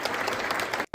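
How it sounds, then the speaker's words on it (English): Crowd clapping steadily outside the Department of Justice building as Merrick Garland departs on his last day, a dense, even applause that cuts off abruptly near the end before a brief louder burst. "everybody clapping for him"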